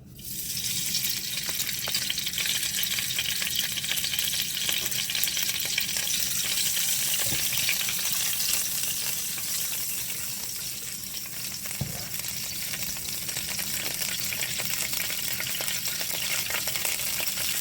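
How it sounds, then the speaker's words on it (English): Butter sizzling in a hot pan while a salmon sauce is prepared, a steady loud crackling fry with a few faint stirring knocks, no voices. "Now I'm gonna add my butter."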